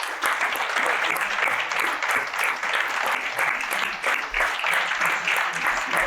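Audience applause at a hall of fame induction ceremony, welcoming a retired school district teacher's assistant as an inductee; steady, sustained clapping from a large crowd fills the whole stretch with no break.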